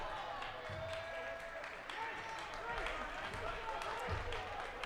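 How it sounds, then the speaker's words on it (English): Faint crowd applause and scattered claps in a high school basketball gym during a Herriman versus Riverton men's game, with sneaker squeaks and court noise underneath and a commentator talking over it. "Race Young gets some applause for that."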